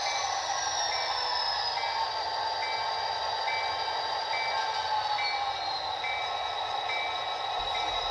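Norfolk Southern locomotive NS 5301 idling steadily as its train is readied, a continuous rumbling drone with a high whine and faint periodic tones, no voices.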